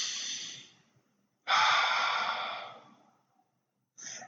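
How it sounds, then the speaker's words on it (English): Slow, deep breaths taken in a calm relaxation moment, two long airy exhales close to the ear with a pause between them, then the start of a third, with no talking. "take a few deep breaths,"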